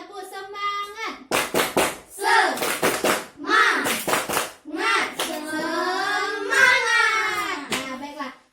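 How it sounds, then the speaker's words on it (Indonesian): A classroom of children doing a rhythmic chant-and-clap routine led by a teacher, sharp patterned bursts of hand claps alternating with loud group chanting voices, close and energetic. "Sekali lagi, Ibu pimpin, tepuk semangat."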